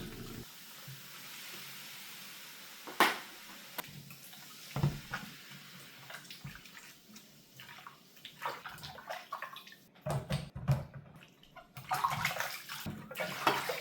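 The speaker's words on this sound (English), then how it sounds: "Then give everything one final rinse under a running water for that clean, fresh finish." Cucumber and apples rinsed under a running kitchen tap: water splashes and gurgles close up, with intermittent bursts and knocks as the produce is moved through the stream, no speech.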